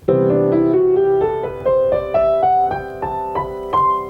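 A Lydian scale melodic line climbs note by note over sustained tones, each step struck clearly with a bright, slightly raised sharp fourth giving an airy, floating color.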